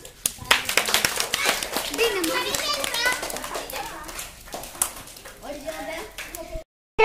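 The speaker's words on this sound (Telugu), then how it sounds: "క్లాప్స్" Schoolchildren clap together in a classroom after a storytelling session, a quick burst of many small hands mixed with lively children's voices and chatter, fading into talk before a short pause.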